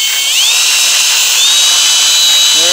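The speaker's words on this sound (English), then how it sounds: "You need enough torque on your drill, but this is what it does." A power drill whines steadily at high pitch, its motor note rising and shifting slightly as it runs, with no voices.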